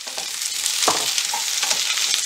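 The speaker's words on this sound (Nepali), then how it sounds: "र टमाटरलाई म भुट्नेछु।" Onion, ginger, garlic and tomato frying in a little oil give a steady close sizzle, with occasional stirring scrapes breaking through the hiss.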